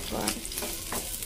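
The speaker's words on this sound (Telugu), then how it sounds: "ఇవి కూడా లైట్గా ఫ్రై చేసుకోవాలి, పచ్చివాసన పోయేలాగా." Tomato and potato frying lightly in a pan with fried onions, stirred with periodic scraping strokes over a steady close sizzle, no talking.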